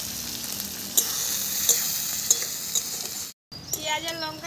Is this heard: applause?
no